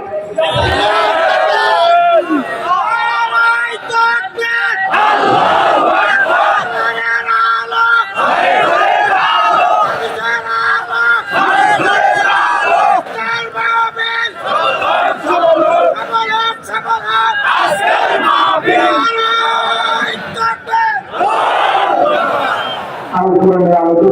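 A large crowd at a religious sermon gathering in Khulna roars a takbir chant in loud, overlapping waves of shouting, with voices massed together and sustained throughout.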